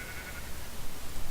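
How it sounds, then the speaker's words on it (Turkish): Sheep bleating in the video game Minecraft, a steady game sound filling the short moment with no talk over it. "Aa koyun koyun koyun. Evet evet koyun."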